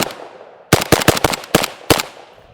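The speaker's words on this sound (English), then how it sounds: "So we're gonna shoot her suppressed." Suppressed shots from a Zastava ZPAP85 AK-pattern rifle in 5.56 fitted with a 7.62 suppressor: six sharp, fairly loud reports fired in quick irregular succession after a brief quiet stretch, each with a short fading tail.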